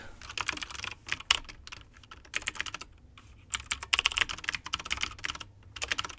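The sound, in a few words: typing on a computer keyboard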